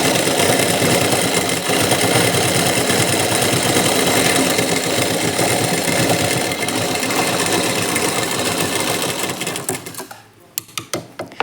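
Sewing machine running continuously as it stitches folded nightie fabric, a steady dense mechanical whir that cuts off near the end, leaving a few sharp clicks and knocks.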